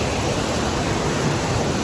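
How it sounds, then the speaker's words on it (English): Fishery Falls in Queensland roars with a steady, loud wash of fast-rushing water, dense and unbroken from near the falls. "Pretty cool that you can see straight through the water into the bottom, even though all the water is rushing so fast."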